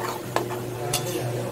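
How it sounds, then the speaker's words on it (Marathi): Coconut frying until brown for poha chivda, a steady close sizzle with a couple of sharp spoon scrapes against the pan. "खोबरं पण ब्राऊन होईपर्यंत फ्राय करायचं"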